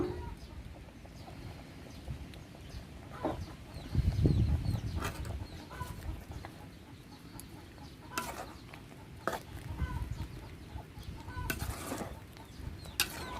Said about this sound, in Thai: ไก่มันไข่